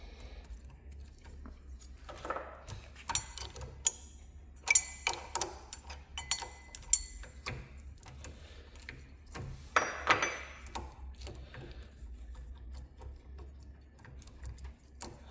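Bolts worked loose and pulled from a Yanmar 3GM30 marine diesel water pump, heard as irregular small metallic ticks, clicks and taps of a tool close by against a faint low hum.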